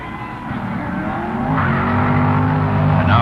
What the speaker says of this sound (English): Arlen Vanke and his Plymouth Barracuda win easily in the semifinals as the Mustang comes unglued